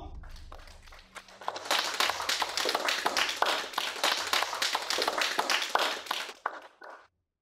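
A group applauds a company for winning a tender, with steady, fairly close clapping that swells after a second and keeps a dense rhythm for about five seconds before stopping abruptly.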